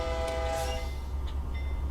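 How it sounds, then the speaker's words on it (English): A freight locomotive horn in Train Simulator sounds a steady, loud blast that holds for close to a second, then fades into the low rumble of the idling engine. "So we give him 2 honks."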